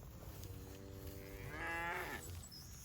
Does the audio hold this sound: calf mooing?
yes